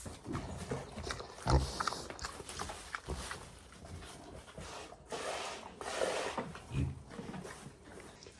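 A pig named Billy on a homestead grunts and snuffles close by in irregular soft bursts, with rustling and scuffing of movement around it.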